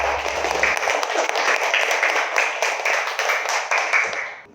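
A school class audience claps after singing a national song, dense continuous applause of many hands filling the room, steady and loud before tapering off at the end.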